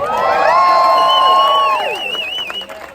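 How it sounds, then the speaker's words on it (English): A crowd gathered for a post-marathon group run cheers for the race organiser, a loud burst of shouts and high whoops held for nearly two seconds before dropping away into scattered calls. "Are you ready for a cheer for our race organiser"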